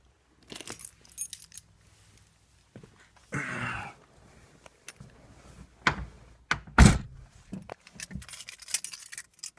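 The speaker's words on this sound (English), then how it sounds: "I'll close the door so the dinger doesn't go off" Keys jangle amid quiet rustling, then a solid thunk as a car door shuts, followed by small handling clatters.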